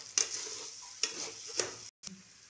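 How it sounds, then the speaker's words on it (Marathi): Vegetable hakka noodles being stirred in a pan over low gas: three or four distinct scraping stir strokes over a soft, quiet sizzle, with a brief cut near the end. "चांगलं मिक्स करून घेऊ. गॅस स्लो ठेवायचा, नाही तर खाली येते चिटकतं."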